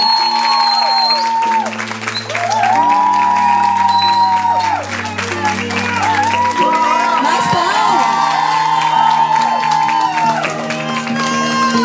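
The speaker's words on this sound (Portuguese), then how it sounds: "recebemos a nossa linda princesa com uma salva de palmas" Guests at a 15th birthday party clap and cheer to welcome the birthday girl, with whoops and shouts mixing into a loud, steady round of applause under prominent music playing throughout.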